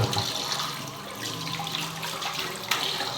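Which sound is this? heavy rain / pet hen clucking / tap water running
tap water running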